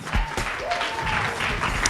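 Applause from the crowd at a Kenyan agricultural awards gala, a steady dense wash of clapping throughout, mixed with some murmuring voices and room noise.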